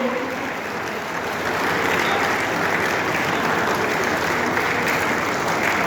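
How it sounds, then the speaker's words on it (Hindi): Sustained applause from a large audience at a provincial conference of a Madhya Pradesh patwari association, a dense wash of clapping that swells slightly and then holds steady throughout. "आपकी तालियों की गड़बड़ाहट दूर नहीं होना चाहिए।"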